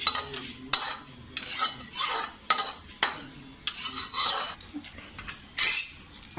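Roasted poppy seeds scraped from a pan onto a plate for karanji filling: repeated close scraping and rasping strokes of a metal utensil, some short and some drawn out, with no talk.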